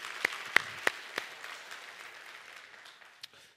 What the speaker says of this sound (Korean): 이분들을 위해서 한번 감사의 박수 보내드리면 좋겠습니다